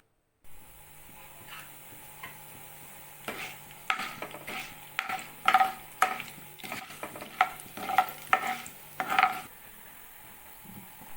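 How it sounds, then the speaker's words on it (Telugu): Tempering spices crackle and sizzle in hot oil in a kadai, with a string of sharp pops and stirring scrapes rising in bursts through the middle before easing off, close and with no talking. "పక్కన పెట్టుకున్న పోపు దినుసుల్ని చిటపట్లాడినంత వరకు వేపుకుందాం."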